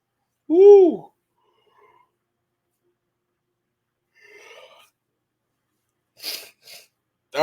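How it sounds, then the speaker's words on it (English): A single close, sharp human sneeze with a voiced rising-falling burst, followed by quieter breaths and exhalations in an otherwise silent room. "That was a good sneeze."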